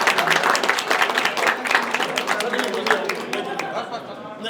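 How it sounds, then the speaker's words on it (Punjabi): A crowd applauds for teachers at a Punjabi film premiere, dense clapping filling the whole stretch with chatter and voices mixed in underneath. "ਉਹਨਾਂ ਲਈ ਤਾੜੀਆਂ ਮਾਰੀਏ"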